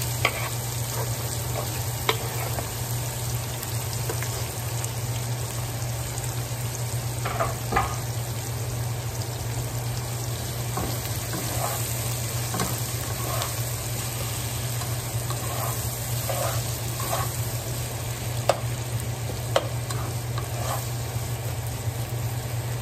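Chopped onion frying in a hot pan at home, a steady broadband sizzle with scattered small pops and crackles running continuously under a low hum, close and even in loudness throughout.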